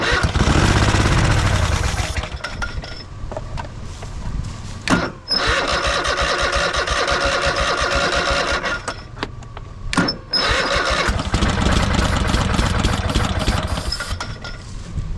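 An old Craftsman lawn mower engine is cranked and fires up, sputtering and running loudly up close with brief dips and catches, then settling into a steady rough roar.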